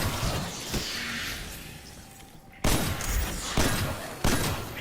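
A Loud Lullaby gun fires in Destiny 2 amid game action, several sharp loud shots at irregular intervals over a dense, noisy background.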